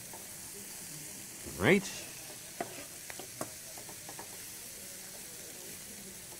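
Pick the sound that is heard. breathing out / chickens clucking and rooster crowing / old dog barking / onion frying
onion frying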